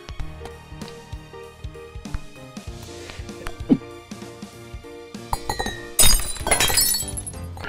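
Glass shatters loudly near the end in I am Bread, a sharp bright crash with tinkling fragments, preceded by light knocks and clinks over background game music.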